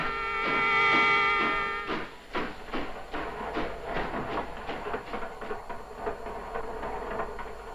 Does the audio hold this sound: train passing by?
yes